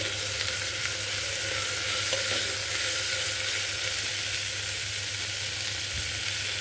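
Coriander and mint fry in a pan for coconut basmati rice, giving a dense, even sizzle that stays loud and close for the whole stretch, with no talking.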